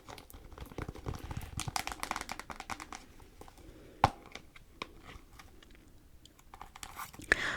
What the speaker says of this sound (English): I am gonna have some extra long-lasting flavor spearmint gum by Wrigley's.